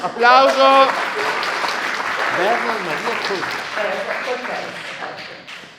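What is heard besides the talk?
audience applause at a theatre event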